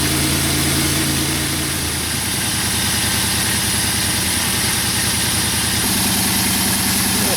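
A Dodge Grand Caravan engine idles steadily with the heater running, a close, continuous low rumble whose pitch shifts slightly after the first couple of seconds and then holds even.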